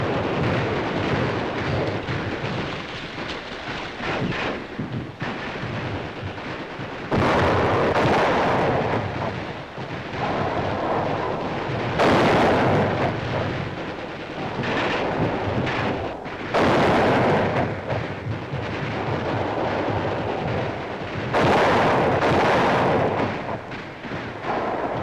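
Heavy gunfire and explosions in a WWII Pacific battle for the Marianas in 1944, sustained and loud with repeated booming bursts rolling over a constant roar of combat.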